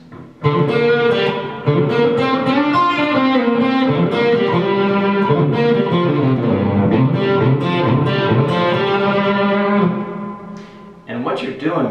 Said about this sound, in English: Another great guitar technique that's often paired with pull-offs are hammer-ons